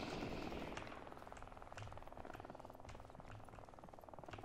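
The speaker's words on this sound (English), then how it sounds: "I hear a helicopter." A video game helicopter's rotor beats as a steady rhythmic chop with a low engine drone, fairly distant and continuous throughout.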